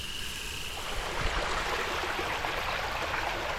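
Water runs steadily through a gold panning sluice fed by a water funnel at a hunting cabin in Buckingham, Virginia, giving a soft, even rushing and trickling that stays fairly quiet and constant throughout.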